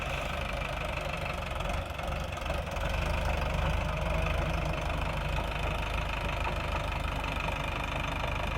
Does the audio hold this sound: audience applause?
no